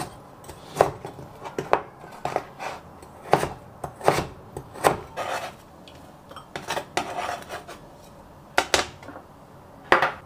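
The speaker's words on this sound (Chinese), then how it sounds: "把这个番茄先切一下" Knife chopping a thawed, peeled tomato on a cutting board in a home kitchen, with irregular sharp taps of the blade striking the board, close and moderately loud, no talking.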